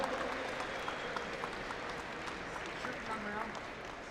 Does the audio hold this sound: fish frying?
no